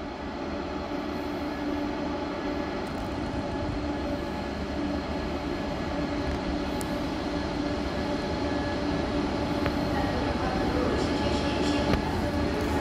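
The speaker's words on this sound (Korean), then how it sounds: "10량으로 조상된 열차 발차하겠습니다" A 10-car SRT high-speed train departs Dongdaegu Station, rumbling steadily nearby, a dense continuous roar of wheels and motors that holds at the same loud level throughout, with no talking.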